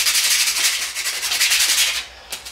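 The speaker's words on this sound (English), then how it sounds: "Sand it up, just smooth it out more than anything." Sandpaper rubs rhythmically along a wooden axe handle, loud and close, in repeated back-and-forth strokes that stop near the end.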